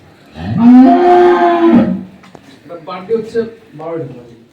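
A loud, drawn-out dairy cow moo at a farm lasting over a second, followed by quieter low vocal sounds and brief murmurs.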